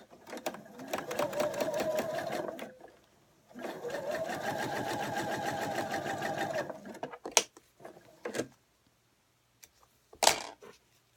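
A sewing machine stitches freezer paper pieces together in two sustained whirring runs, close and loud, followed by a few short clicks and handling sounds.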